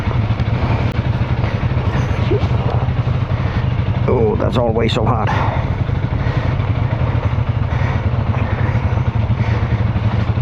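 A motorcycle idles steadily in a garage as it is backed out, its low engine rumble continuous and close throughout, with a brief clatter midway and people talking over it.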